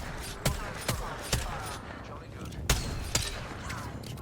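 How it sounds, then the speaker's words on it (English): Repeater rifle shots in the Apex Legends video game, several sharp cracks at irregular intervals over a steady game background. "Don't judge by repeater shots,"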